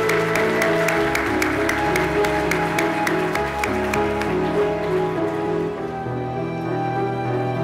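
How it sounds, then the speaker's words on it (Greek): A room full of people at an awards ceremony applauds steadily, a dense even clatter of clapping that tapers off slightly toward the end. "Ένα χειροκρότημα ακόμα, παρακαλώ."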